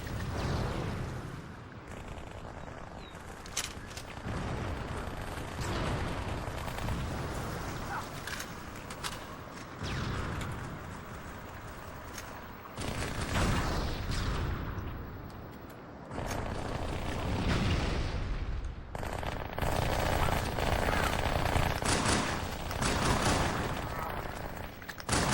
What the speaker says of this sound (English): Grenades went crazy.